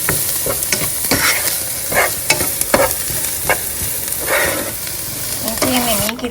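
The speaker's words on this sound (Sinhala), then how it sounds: "දැන් මේක දාගන්නවා හීනෙට කපාගත්ත අවු මිරිස් ටිකක් මෙන්න මේ විදියට. මේක මේ විදියට හොඳට කලවම් කරගන්නවා." Chopped green chillies stir-fried in a pan at home, with a steady close sizzle and repeated scraping strokes of a spoon, plus a brief clatter near the end.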